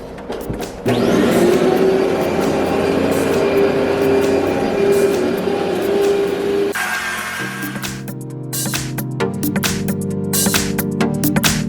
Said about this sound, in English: All right, so we're gonna start vacuuming this room here.